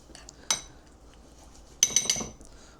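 Oatmeal with cinnamon is stirred with a spoon in a bowl, a sharp scrape followed by a quick cluster of clinks against the dish, quiet between, no talking.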